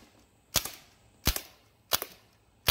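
Sig Sauer MCX Virtus rifle fired into a coin machine, heard as three loud, sharp cracks spaced roughly evenly about 0.7 seconds apart, each with a short ringing tail, and no voices.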